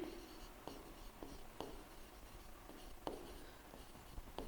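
Pen or pencil writing an answer by hand on paper, a series of soft scratching strokes with sharper taps between them, close and quiet, no talking.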